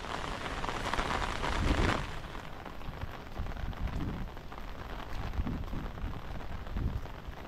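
Steady, dense monsoon rain roars continuously over farmland, with a heavier surge of wind or downpour early on and no voices.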